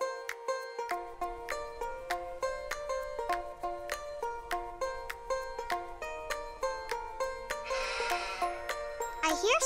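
Sheep bleat in a farm animal pen, repeated wavering calls over a steady tinkling, rhythmic musical backing, with a brief rustling noise near the end.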